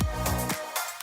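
Music fades down through a high pass filter toward 1,000 hertz in Premiere Pro, the low end thinning and dropping away until only a brighter, thinner sound remains, with no talking over it.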